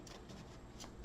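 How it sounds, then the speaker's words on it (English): A deck of tarot cards is shuffled close by, giving a quiet, brief riffling patter with a few soft flicks and no talking. "2 more shuffles."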